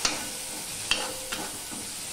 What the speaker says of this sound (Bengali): এবার আমি সম্পূর্ণটা মিশিয়ে নেব ভালো করে।